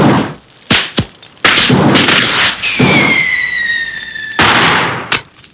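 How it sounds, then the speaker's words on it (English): Firework bangers exploding: several sharp, loud bangs and thumps close by, with a whistling squeal rising over the middle and more bursts after it. "They just laughed and let off bangers."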